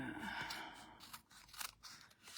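Scissors cut through paper for a Christmas card kit, giving a few close, quiet snips and crunches spaced unevenly.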